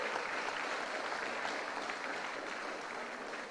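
An audience at a nursing school graduation gives a dense, sustained round of applause, a steady wash of many clapping hands that holds even throughout and tapers slightly at the end.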